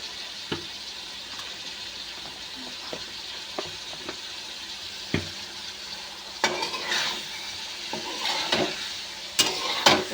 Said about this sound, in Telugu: వేసాక ఇదిగోండి ఇలా కలుపుకోవాలండి.